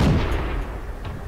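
A tank cannon fires in the World of Tanks video game, one heavy booming blast at the start that rolls off into a low rumbling decay, with faint sharper pops trailing behind.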